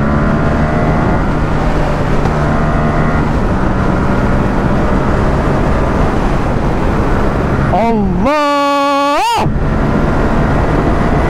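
Yamaha XSR700 motorcycle accelerating on the road: steady wind roar throughout, then a short engine whine rising sharply in pitch near the end.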